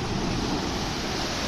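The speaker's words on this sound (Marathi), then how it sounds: "जोर जोरात आदळतात लाटा." Sea waves crash against the stone wall of Sindhudurg fort as a continuous loud roar of surf mixed with wind buffeting the microphone, heard close with no break.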